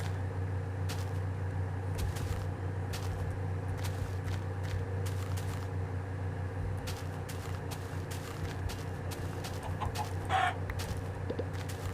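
A blocky Minecraft chicken gives a few short clucks over a steady low game hum, with scattered footstep clicks and one brief, louder squawk near the end.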